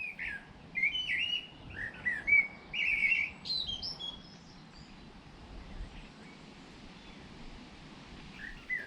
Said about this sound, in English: The 2 robins there, male and female.